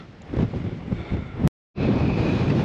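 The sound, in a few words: wind on a mountain in the Cairngorms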